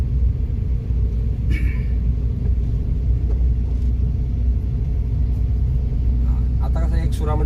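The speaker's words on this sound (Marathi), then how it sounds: "गाडी जास्त साऊंड होईल असं देऊ नका" A car's engine rumbles steadily and close throughout a beginner's driving lesson on the road. An instructor talks continuously over the drone, and faint brief clatters come near the end.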